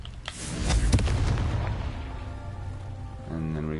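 Confringo, an explosive fire spell in the Hogwarts Legacy video game, lands as a booming blast with a crackling burst, then the rumble decays into a lingering roar.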